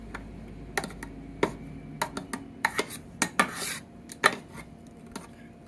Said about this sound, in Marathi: आता ते आपण दावाने आपण चांगलं ते मेंढून घ्यायचं, सगळं एकजीव करून घ्यायचं